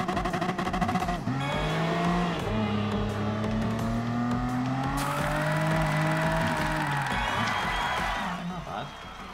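A car in the racing game Gran Turismo Sport roars continuously at full throttle, its engine pitch climbing and falling through gear changes, loud and sustained throughout, with tire noise and a voice faintly underneath.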